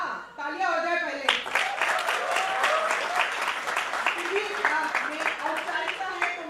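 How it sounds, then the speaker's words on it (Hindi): Festival audience applauding a film actor's arrival on stage, sustained crowd clapping with audible individual claps, while a voice speaks over it at the start and other voices carry on beneath. "तालियां हो जाए पहले"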